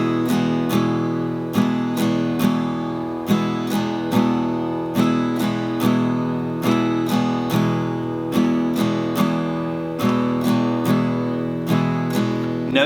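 An acoustic guitar is strummed in a steady pattern of one quarter note followed by two eighth notes, with the first upstroke skipped. The chords ring loud and close and repeat evenly throughout, with no talking.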